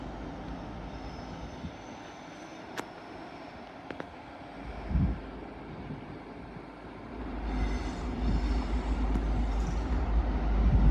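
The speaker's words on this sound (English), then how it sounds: "Passing through now, or making a return, is the Network Rail maintenance train, the Flying Banana mostly, working a service from Hull to Darlington" Network Rail's Flying Banana maintenance train working from Hull to Darlington through Doncaster on the East Coast Main Line, its engine noise building steadily from a low background drone to a louder roar, with faint station ambience and no talk.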